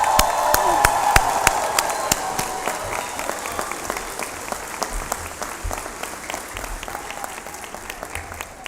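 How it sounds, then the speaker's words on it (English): A crowd at a law college hooding ceremony gives a loud, sustained round of applause, dense clapping with sharp individual claps standing out, continuing steadily throughout. "Let's give her another round of applause"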